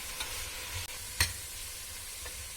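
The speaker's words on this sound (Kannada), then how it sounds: "ಚೆನ್ನಾಗಿ ಮಿಕ್ಸ್ ಮಾಡ್ಕೊಳ್ಳೋಣ." Masala for mushroom pulav being stirred in a pan with red chilli powder and salt, a steady faint sizzle with a sharp spoon scrape near the middle and a few softer clinks.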